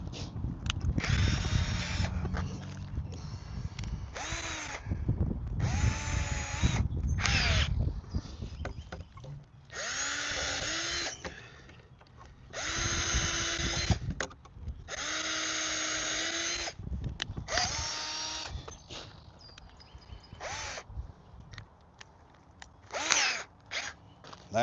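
A power drill drives screws into a bracket on a wooden sandbox outdoors. Separate whirring bursts rise and fall as each screw goes in, with short quiet gaps between runs.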